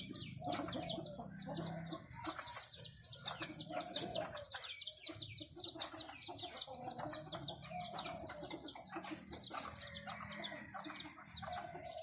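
Bantam chickens on a farm, a rooster and two hens, cluck and chirp almost continuously, a dense busy flock close by with small birds tweeting among them.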